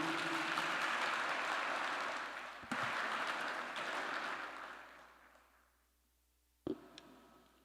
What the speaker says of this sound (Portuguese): Aplauda o nome dele, pelo amor de Deus.